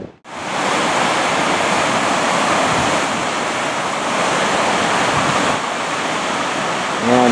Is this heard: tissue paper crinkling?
no